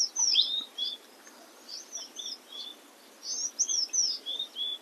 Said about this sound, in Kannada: ತುಂಬ ಪಕ್ಷಿಗಳದೆಲ್ಲ ಸೌಂಡ್ ಕೇಳಿಸ್ತಾ ಇದೆ.